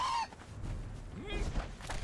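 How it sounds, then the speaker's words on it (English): Birds attack in the Conan Exiles survival game, with a sharp squawk at the start and scattered, faint cackling cries over low game ambience. "See, I'm getting attacked by the birds and everything."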